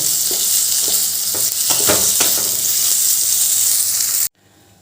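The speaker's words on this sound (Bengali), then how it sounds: "পটলগুলো তো ভাজা হয়ে গেছে" Pieces of pointed gourd (potol) fry in hot oil in a pan, with a bright, steady sizzle and a few clattering stirs. The sound cuts off abruptly near the end.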